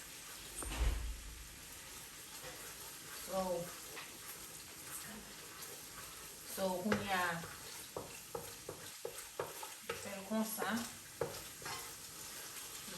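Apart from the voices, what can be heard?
meat frying in sauce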